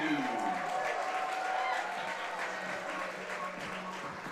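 Fans at an IBL baseball game between the Barrie Baycats and London Majors cheer and clap in a continuous crowd roar. A voice runs faintly beneath the steady noise.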